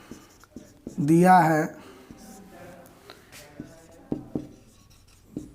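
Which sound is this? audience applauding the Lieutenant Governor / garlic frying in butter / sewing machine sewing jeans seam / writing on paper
writing on paper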